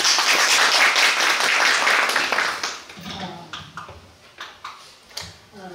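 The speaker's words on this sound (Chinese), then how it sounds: "一起鼓掌来欢迎他" An audience at an academic lecture on Taoist ritual music in Taiwan bursts into dense applause for the speaker. The clapping holds for about three seconds, then thins to scattered, fading claps.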